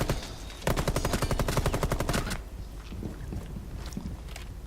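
A loud, rapid burst of automatic gunfire from Rainbow Six Siege runs for about two seconds, then gives way to quieter in-game ambience with a few faint scattered shots.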